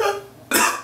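A single short cough, sharp and close, bursts out after a brief quiet stretch.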